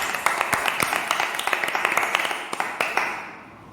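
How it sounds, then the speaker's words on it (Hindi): A church congregation at a prayer gathering claps loudly, sharp hand claps layered over a continuous wash of applause that fades out toward the end. "तो हम जोरदार तालियों से परमेश्वर का स्वागत करते हैं"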